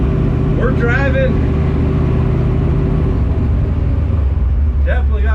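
A 1967 Ford Mustang rumbles steadily on the road with a passenger-side exhaust leak, its loud droning engine note constant throughout while a voice talks briefly over it.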